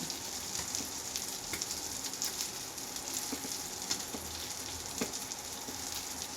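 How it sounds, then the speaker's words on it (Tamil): Fish pieces for a Tamil fish gravy fry in a pan, giving a dense, even sizzle that crackles with small pops throughout, close and fairly loud with no talking. "மீன் அந்த பக்கம் வரைஞ்சிட்ருக்கு இப்போ அது எடுத்தாச்சு இன்னும் கொஞ்சம் வேகலானால அதை திருப்பி போட்டிருக்கேன்"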